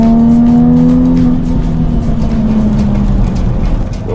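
Race car on a circuit accelerating hard out of a corner, a loud, steady engine note rising in pitch as it pulls away, close and sustained with no talking.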